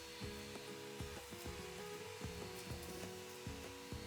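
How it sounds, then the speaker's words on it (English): A vacuum cleaner runs steadily over a model railway layout after ballast glue has dried, a continuous droning whine with rhythmic scraping bumps as the nozzle passes over track and loose ballast. "After it's all dried, I give the layout a very good vacuum."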